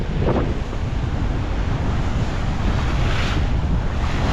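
Continuous wind rush and waves sloshing against a sailboat at sea in the San Pedro Channel, a loud, steady roar with a couple of brief splashes breaking through.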